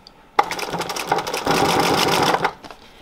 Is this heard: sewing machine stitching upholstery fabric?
yes